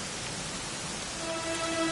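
Steady rain falls in Dragon Quest XI, a dense, even hiss of rainfall at moderate level with no voices, and faint tones rise in the background toward the end.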